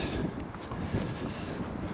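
A steady low roar of wind rushes over the microphone without pause for a couple of seconds, no voices heard.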